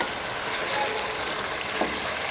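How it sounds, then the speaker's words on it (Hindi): Chicken frying in a pan with mustard seeds gives a steady, dense sizzle that stays fairly even throughout, with no voices over it. "साथ ही हम इसमें डाल देंगे ये चिकन। इसको हम करेंगे फ्राई।"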